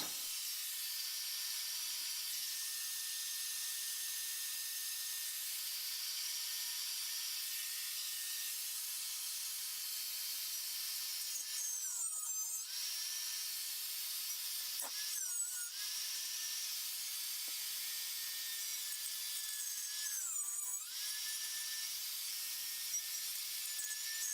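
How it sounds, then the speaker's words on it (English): A router fitted with a 1/4 inch spiral upcut bit and a guide bushing cuts a hole in a wooden workbench top, producing a continuous high whine, with three brief dips in pitch where the bit bites into the wood. "Coupled with a 1/4 inch spiral upcut bit and a 5/16 outside diameter router guide bushing, the final hole in the workbench top is just over 20 millimeters"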